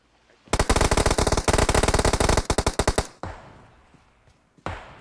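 A video game plays loud rapid automatic gunfire in a long burst lasting over two seconds, followed by a couple of heavier single shots and some game noise.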